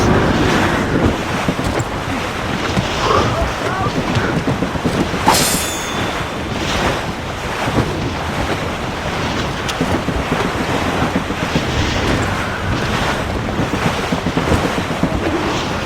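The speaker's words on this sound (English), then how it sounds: "Wind's getting vicious." Strong wind roars and ocean waves surge at sea in the Assassin's Creed Rogue video game. The gusts and surf wash are loud and continuous throughout, with no voices.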